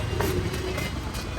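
A train runs at a park in Nepal, giving a close, steady rumble with faint rhythmic clatter and no voices.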